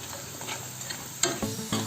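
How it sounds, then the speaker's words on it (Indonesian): Homemade crispy chips fry in hot oil while being stirred continuously, giving a steady close sizzle broken by a few louder scraping stirs near the end, with no talking. "ini kita goreng sambil kita aduk-aduk terus sampai keripiknya itu benar-benar garing"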